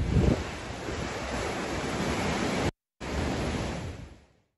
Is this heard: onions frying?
no